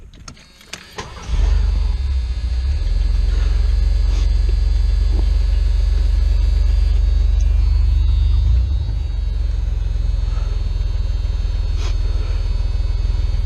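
A carbureted 1981-85 Ford Mustang cranks briefly and fires up, then settles into a loud, steady, close-up idle rumble that holds evenly to the end.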